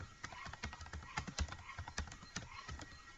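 Keys clatter on a computer keyboard in quick, uneven bursts of close, crisp taps, quiet and with no voice over them.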